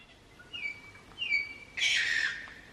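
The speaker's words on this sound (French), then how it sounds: "C'est cet oiseau mutant là qui faisait ces bruits de malade." A wild bird calling in the Zealandia wildlife sanctuary in New Zealand: two rising whistled notes followed by a louder, harsh buzzing squawk, fairly close against quiet outdoor ambience.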